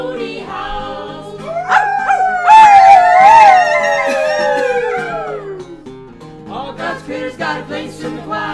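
Singers imitate a coyote's howl in a choir, several voices sliding up into a long rising and falling wail that fades out, followed by brief choppy vocal sounds.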